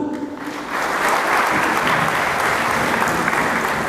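Congregation applause during a church youth service, a dense steady wash of many hands clapping that swells after a brief start and holds loud throughout.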